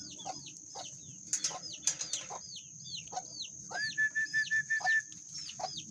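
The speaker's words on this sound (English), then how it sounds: "Chickens." Chickens cluck and squawk nearby in short repeated bursts, with a run of rapid clucks and some wing flapping in the background.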